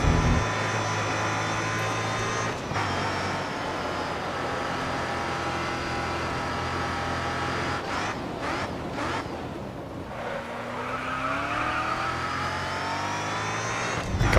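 Race car engine in Grid Autosport, revving and shifting through gears as the car brakes and accelerates around a track, loud and continuous with rising and falling pitch and no talk.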